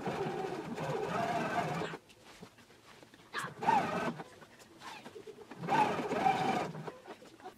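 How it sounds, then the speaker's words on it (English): A sewing machine stitches an anorak seam from a Simplicity 8843 pattern at a 5/8 inch seam allowance, running in three quiet bursts of rapid whirring with short pauses between them. "Okay, now I'm gonna take it to the sewing machine."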